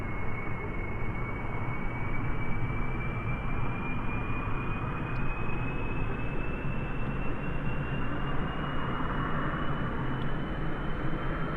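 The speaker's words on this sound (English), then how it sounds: "let's go ahead and start these engines" Jet engines of an aircraft in Kerbal Space Program whine steadily on the runway, with a tone that climbs slowly over a broad, constant roar; no talking.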